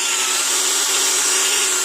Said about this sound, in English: Drill your hole and you're good to go.